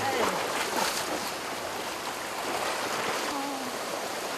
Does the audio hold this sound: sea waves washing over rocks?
yes